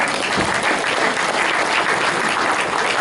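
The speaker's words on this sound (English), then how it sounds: "Give yourselves a round of applause." A meeting audience claps steadily and loudly for a few seconds, a dense, continuous wash of applause with no voices on top.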